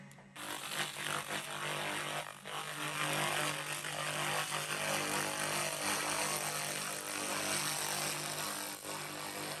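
An EETO handheld fiber laser cleaner is cleaning metal. A loud, steady high-pitched whine and hum from the machine's fan and source continues throughout, with a brief dip near the start, close to the listener and without talk.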